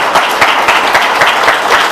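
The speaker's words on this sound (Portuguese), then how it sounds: "dê uma salva de palmas para Ele bem forte" A church congregation standing and clapping loudly together, a dense, steady burst of applause filling the room with no voices over it.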